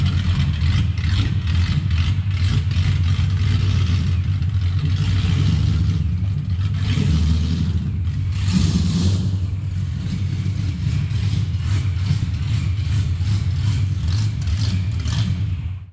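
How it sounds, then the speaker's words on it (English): Cobra engine revs and rumbles steadily with a loud, continuous drone as its automatic transmission slips in fourth gear, surging in pitch with mechanical clatter throughout and no talk. "this is slipping really bad, and I can see in the computer it's commanding the gear gear and then it starts to slip."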